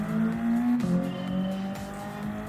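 Race car with a Renault engine in the Gran Turismo 7 racing game, a steady loud engine drone that drops in pitch at a gear change, then carries on at even volume.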